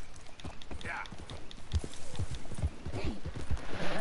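Horse hooves clip-clop in a steady walking rhythm in Red Dead Redemption 2, with soft, even thuds close by under quiet ambient game sound.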